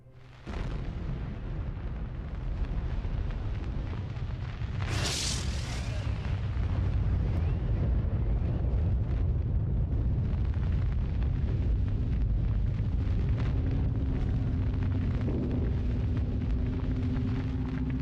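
Nuclear test explosion blast: a deep, sustained rumbling roar that swells after a sharp onset, with a brief hissing burst partway through, distant and heavy, no voices.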